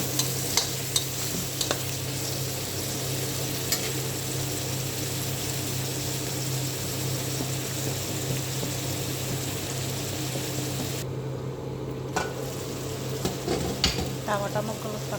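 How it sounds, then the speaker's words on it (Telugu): Tomatoes, green chillies and ginger paste cook in an oily pan on a home stove, a steady close sizzle broken by a few scraping stirs, with a constant low hum running underneath throughout. "ఇప్పుడు ఇందులో టమాటాలు, పచ్చిమిరపకాయలు, కొద్దిగా అల్లం పేస్ట్ వేసాను"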